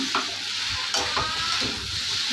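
Potatoes are stirred in a hot pan with cumin and five-spice, giving a loud, close sizzle broken by repeated scraping strokes of a spoon against the pan.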